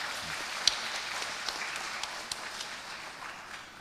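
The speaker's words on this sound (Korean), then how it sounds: "우리 박수 한번 쳐드리십시오." Applause from an audience seated in a lecture hall during a talk at a summer retreat, a faint, steady wash of clapping with a few sharper individual claps standing out.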